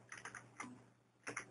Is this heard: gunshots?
no